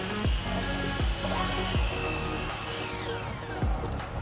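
Miter saw set at a 13-degree angle cutting wooden fence pickets, a loud steady motor whine with several spinning-down sweeps between cuts, no talking.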